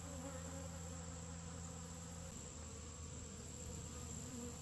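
Honeybees hum around their hive in a faint, continuous drone, with a few individual buzzes rising and fading close by; no one speaks.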